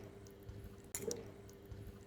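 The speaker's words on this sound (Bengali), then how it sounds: "তো এখন আমি পানি দিয়ে দিব পরিমাণ মতো।" Water is poured into a pan for hilsa fish curry, giving a faint, brief splash and trickle over a low, steady room hum.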